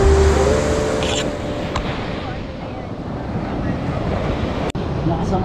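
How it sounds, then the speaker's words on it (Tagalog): Strong ocean waves rolling onto a beach at Pundakit, San Antonio, Zambales, a loud continuous roar of surf with wind buffeting the microphone and a brief voice at the start. "Lakas ang alon."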